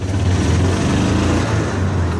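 A 12.6 horsepower utility vehicle engine hums steadily as it drives, a close, constant low drone with a faint rattle and no talking.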